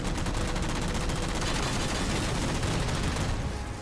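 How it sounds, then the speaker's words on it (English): Missile explosion on a Covenant Phantom in the video game Halo 4: a dense, loud, sustained roar with crackling bursts, filling the stretch without pause. "That explosion seems a lot more vibrant than normal."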